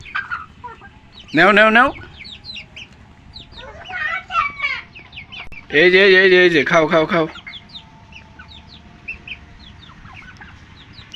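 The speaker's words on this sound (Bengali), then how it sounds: "এই হচ্ছে গ্রামের মুরগি।" Village chickens cluck and squawk in loud, excited bursts while being fed by hand, with quieter clucking between bursts and a person's voice calling to them throughout.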